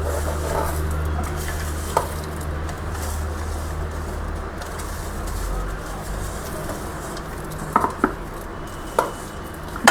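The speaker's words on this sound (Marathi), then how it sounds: "पहिले शेंगदाणे ते हे बारीक करून घेऊ." Peanuts, sesame seeds and coconut are ground fine for winter dry-fruit laddu, a loud, continuous, rough whirring grind lasting throughout with a few small knocks near the end and no talking.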